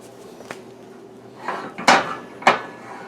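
A warm pot being handled in a home kitchen with pot gloves gives a few sharp metal knocks and clatters, spaced about half a second apart, close and fairly loud, with no talk.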